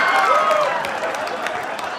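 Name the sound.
audience clapping at a comedy club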